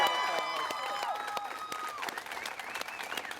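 A crowd at Elyria's 200th-year celebration applauds the Elyria Pioneer softball state champions, a sustained wash of clapping with faint cheering and ringing tones mixed in, fading slightly toward the end.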